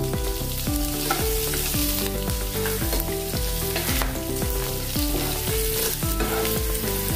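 Spices crackle and sizzle in hot oil with green chilli and asafoetida, loud and steady and close, while a spoon repeatedly scrapes and stirs through the pan.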